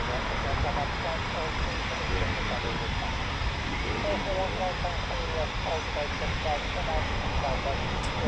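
A Eurofighter Typhoon FGR4 jet arriving back at an RAF station makes a faint, steady distant roar under nearby voices talking.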